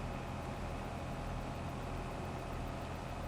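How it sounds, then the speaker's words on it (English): Tractor engine in Farming Simulator 22 with an odd engine note, running as a steady low idle-like drone throughout, fairly quiet and continuous with no talk. "It's not as noisy as the Ford, but just has a really weird engine note."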